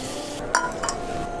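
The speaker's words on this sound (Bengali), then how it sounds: "এখন নেড়ে চেড়ে সব কিছুর সঙ্গে মিশিয়ে নিব।" Pasta stirred and mixed with tomato sauce in a pan, a spoon scraping and clinking against the metal over a steady low background hiss, with a few distinct taps.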